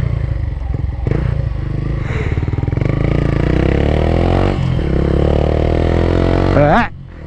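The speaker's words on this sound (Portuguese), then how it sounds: "estamos usando escapamento à tala com ponteira, escapamento seccionado." Yamaha FZ15 motorcycle fitted with a sectioned exhaust and tip, engine note rising and falling steadily as it is ridden close by, ending in a sharp rev before cutting out.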